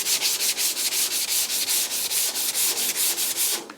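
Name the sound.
hand sanding epoxy-painted cab with 150 grit sandpaper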